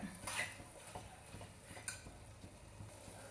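Jaggery and grated coconut stirred in a pot, a spoon scraping and clinking against the metal in soft, irregular strokes, close and fairly quiet, with a faint low hum underneath.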